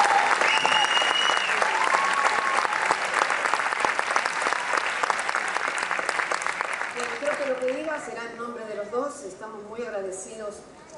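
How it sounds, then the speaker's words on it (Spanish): An awards ceremony audience applauding for Fernando, sustained loud clapping that fades toward the end as a voice starts speaking over it. "Así que un aplauso para Fernando"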